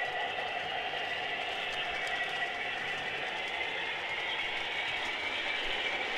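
A long multi-wheeled model railroad locomotive runs along its track, giving a faint, steady whirring rumble with light rolling clatter and no pauses, and no one speaks.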